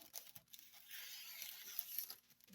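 Scissors snip through parchment paper laid on a canvas with faint, close crisp cutting and crinkling sounds in a few short strokes, with no talk.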